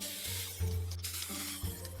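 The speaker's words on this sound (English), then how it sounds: "I'm going to spray all this, make it tacky" Steady hissing spray of adhesive from an aerosol can onto car seats, bursting on and off in short pulses against a low background hum.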